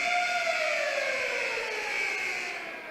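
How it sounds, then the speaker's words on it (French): A loud, sustained arena siren blares continuously at the end of a hockey game, its tone sliding slowly downward as it holds for several seconds. "c'est un sirène qui annonce la fin du match"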